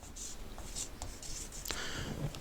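Handwriting close to the microphone, soft scratchy pen or marker strokes in short bursts against a quiet background hiss.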